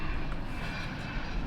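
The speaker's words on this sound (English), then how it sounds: "So the next best air vehicle is going to be the A-10." A-10 attack plane in War Tycoon, a steady jet engine drone held at even loudness throughout, broad and roaring with no voices over it.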